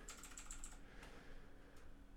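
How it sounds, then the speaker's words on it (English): A quick burst of clacking keystrokes on a mechanical keyboard, close and crisp, followed by a couple of isolated taps. "I've got my mechanical keyboard on me today."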